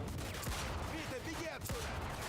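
Gunshots in Mafia 2, a Magnum revolver among them, crack out between shouted character dialogue, with sharp bursts of fire over a busy mix of voices and action.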